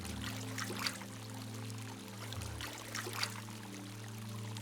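Warm hot-spring water at a spa, heard as a soft, steady pouring and trickling that runs throughout over a low musical drone, with no talking.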